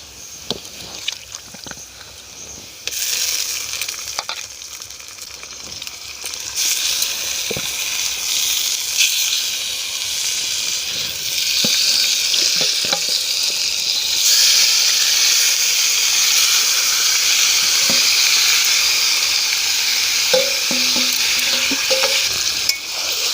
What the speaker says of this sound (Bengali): আমি এবার ম্যারিনেট করা চিকেনটা দিয়ে দেব।